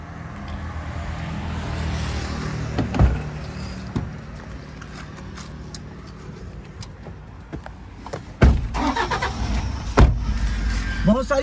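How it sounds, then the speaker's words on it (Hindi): A used car's engine idles with a steady low rumble, broken by a few sharp door or body clunks, while someone talks over it close by. "अब हमारी गाड़ी का इंजन हो गया ऑन"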